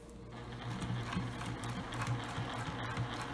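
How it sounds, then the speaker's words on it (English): Sewing machine back stitching through fabric for a zipper tote bag, a steady close mechanical whir with a fast rhythmic needle chatter running throughout, alone and without talk. "I'm going to back stitch and then remove the sewing pin"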